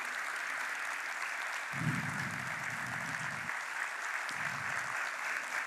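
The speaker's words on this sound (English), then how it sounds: "Please give a round of applause to this most powerful lady." Steady applause from an audience at a business meeting, a continuous even clatter of many hands, fairly distant, with low thumps from the room breaking in briefly.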